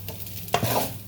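A short scrape of a utensil stirring fried rice in a pan, one quick swish over a faint sizzle, close and alone.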